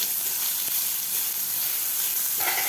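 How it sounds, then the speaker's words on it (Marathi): A paste of garlic, green chili and coriander sizzles steadily in a hot pan, a continuous close hiss with a brief stirring scrape near the end and no voices. "हे सुद्धा आपल्याला एक मिनिटभर व्यवस्थित फ्राय करायचं आहे"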